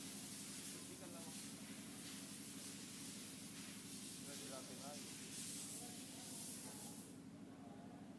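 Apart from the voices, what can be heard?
spraying to clean CBR250RR piston block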